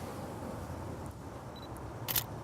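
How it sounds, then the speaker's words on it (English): A single crisp shutter click from a single-lens reflex camera taking a picture, brief and fairly close, over a steady low background hum. "take a picture of Lex"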